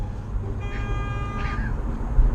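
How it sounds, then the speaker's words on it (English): A car horn honks at a red light in one sustained blast of about a second, heard from inside a nearby car over a low traffic rumble. "Who's he honking at like that?"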